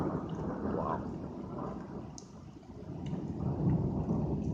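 Low rumbling thunder rolls through a severe thunderstorm in Enfield, Connecticut, a broad continuous roar with steady rain noise that swells louder toward the end, heard without talk.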